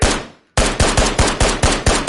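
Rifle fire in the video game Ghost of Tabor: one shot decays into a brief gap, then a rapid string of about seven loud, evenly spaced shots in automatic fire, close and with no talking.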